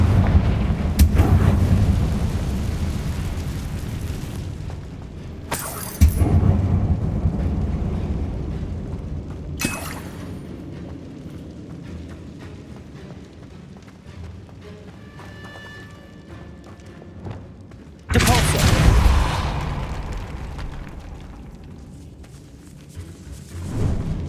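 Confringo blasting spells going off in Hogwarts Legacy inside a decaying catacomb, several heavy booming explosions spaced seconds apart, each with a sharp crack and a rumbling tail.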